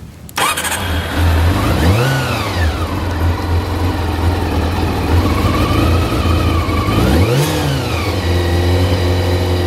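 A 1988 Honda CBR 400 RR NC23 motorcycle on a cold day, starting with the choke on: a sharp crank catches into a loud close engine note, then two throttle blips rise and fall over a steady high idle.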